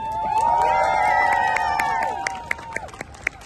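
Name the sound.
audience applause for a speaker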